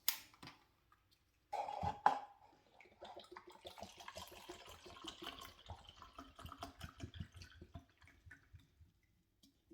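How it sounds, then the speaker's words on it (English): Lemon juice poured for a Yardie-style rum punch, a soft, close trickle of liquid running steadily for several seconds after a short clink, with faint dripping and splashing. "we'll put 1 cup of lemon juice"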